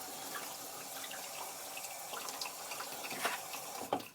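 Tap water runs steadily into a sink for a face wetting before a shave, a soft continuous splashing with a few louder splats near the end, close and moderately quiet with no talking.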